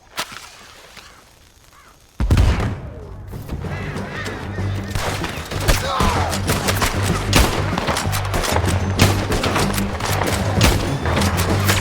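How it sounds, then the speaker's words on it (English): Gunfire in the Red Dead Redemption II video game: after a quiet stretch, a loud, dense volley of close shots erupts and keeps going as a steady barrage of sharp cracks. "Let's just start shooting."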